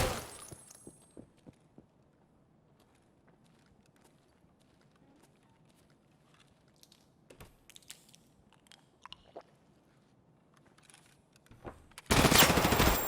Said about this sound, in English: Where's this guy shooting from?